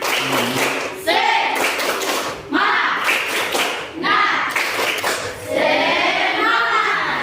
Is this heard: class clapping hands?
yes